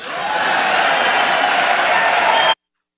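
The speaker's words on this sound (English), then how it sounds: "And that, of course, evoked huge, as you heard, huge applause from the right." Loud, dense applause from one side of the audience during a president's speech, a sustained roar of clapping and crowd noise that cuts off abruptly.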